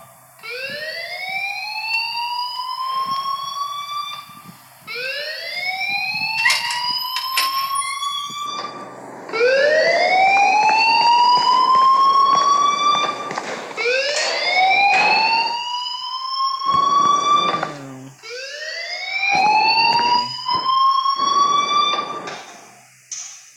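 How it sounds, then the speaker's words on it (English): Fire alarm in the video game Life is Strange, ringing loudly as a series of rising siren-like sweeps repeating steadily over about twenty seconds, with no talk. "please turn off that alarm"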